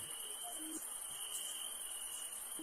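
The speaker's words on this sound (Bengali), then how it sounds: "চারিদিকে ঝিঝি পোকা একভাবে ডেকেই চলেছে" Crickets chirp steadily at dusk in a horror cartoon scene, a faint, unbroken high trill that holds evenly throughout with no other clear sounds.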